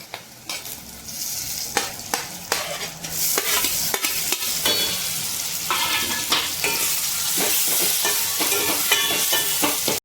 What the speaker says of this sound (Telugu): టమాటా ముక్కలు వేసుకుందామండి.